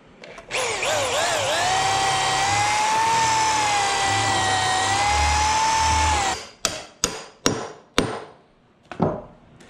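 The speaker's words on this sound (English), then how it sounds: "And then when I drill my other side" A power drill bores through a wooden trailer floor, its motor whining steadily for several seconds, then a handful of short sharp trigger bursts follow, close and loud with no talk.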